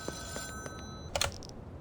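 Phone ringing inside the drug-dealing game Schedule 1, a few short electronic ring bursts spaced across the moment, the brightest trill near the end, heard alone with no talk.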